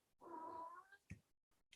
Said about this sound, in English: And my cat. Yeah, you want to join? You want to say hello?